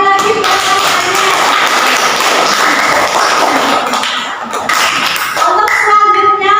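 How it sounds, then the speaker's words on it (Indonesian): Classroom applause for a student named Fajar after a Qur'an Hadith lesson presentation, dense steady clapping from many hands filling the room, with a few voices mixed in. "Tepuk tangan sekali lagi buat Mas Fajar"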